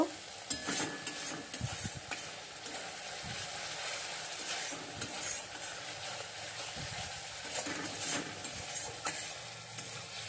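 Spices fry and sizzle steadily in a pan for a coral fish head and bottle gourd curry, with repeated close scraping and stirring strokes over a constant hiss.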